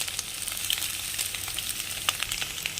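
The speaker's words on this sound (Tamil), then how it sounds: "இப்போ ஸ்டவ்வை ஹை ஃப்ளேமில் வச்சுக்கிட்டு இந்த வெஜிடபிள்ஸ்லாம் ஹாஃப் குக் பண்ணி எடுத்துக்கலாம்" Carrots, beans, onion and green chilli fry in a pan over a high flame, making a bright, continuous sizzle with scattered pops and a few stirring scrapes.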